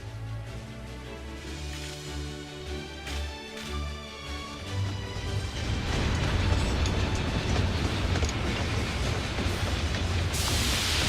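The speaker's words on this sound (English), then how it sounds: "Yep, that's a train, all right." A train in the video game Final Fantasy XIV pulls in, starting with a low rumble under background music and building into a loud, continuous roar with rattling wheels.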